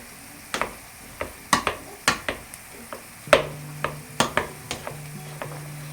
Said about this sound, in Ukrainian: Картоплю я нашу розминаю, щоб не було грудочок.